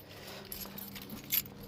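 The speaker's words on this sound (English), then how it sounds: "Too many keys in my pocket." Keys jangle in a pocket while someone works on a V6 Chevy S10, a faint brief metallic rattle with a sharper clink near the end, no talking.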